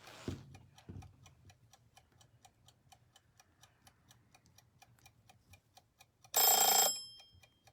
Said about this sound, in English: And there's my timer, so I need to check on my Freshies that are in the oven.